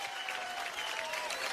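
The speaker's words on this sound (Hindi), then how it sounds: "परिणीति के लिए एक बार जोरदार तालियां हो गए" Audience at an IIFA awards show gives loud applause for Parineeti, a continuous dense wash of clapping with crowd murmur beneath.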